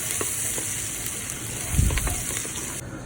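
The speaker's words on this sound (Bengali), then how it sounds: "ভালো করে নাড়াচাড়া করব।" Onion, cinnamon and cardamom fry in oil while being stirred, a bright steady sizzle with a deeper scraping rumble of the spoon partway through, close and fairly loud.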